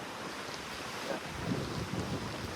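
Strong wind buffets a cruise ship deck at sea, a steady rushing roar with gusty swells and sea noise, close to the microphone with no voices.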